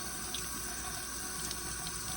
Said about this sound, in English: I'm going to put some hot water on this.